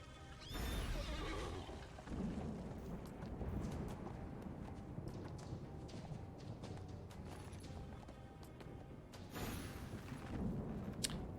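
A horse in a video game gives loud whinnies at the start and again near the end, with clip-clopping hooves and game sounds in between.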